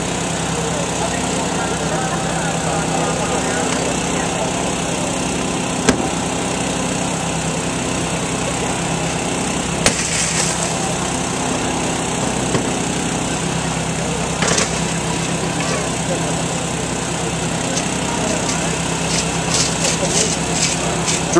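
A small engine-driven motor, likely a power tool or generator, runs steadily during a firefighter recruit vehicle extrication drill, a loud continuous drone with occasional sharp clanks and knocks over it and faint background voices.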